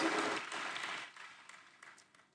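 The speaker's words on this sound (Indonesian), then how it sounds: "Boleh kasih tepuk tangan buat worship leader, choir, dan para musicians." Applause for a church worship leader, choir and musicians, a soft wash of many hands clapping that fades over two seconds with a few scattered claps at the end.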